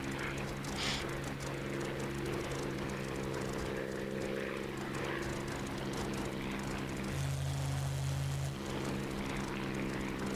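A model airplane's propeller engine drones steadily at a flying field, holding a constant buzzing pitch, then shifting briefly to a lower tone before returning, with no talk over it.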